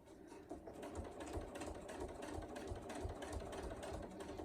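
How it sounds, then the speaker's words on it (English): A sewing machine stitches a seam on a fabric tool wrap, a steady fast mechanical whirr with rhythmic needle thumps running alone and fairly quiet throughout. "I'm going to sew 1/4 of an inch up to 1/4 of an inch away from the bottom edge."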